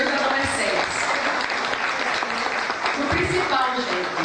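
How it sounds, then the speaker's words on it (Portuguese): An audience at an Academy of Letters ceremony marking a city's anniversary gives a dense, steady round of applause with some voices mixed in throughout. "uma salva de palmas para esses 2 adolescentes"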